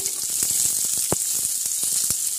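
Onion fries in a pan with a steady, fairly loud sizzle and crackle, dotted with small pops and light clicks.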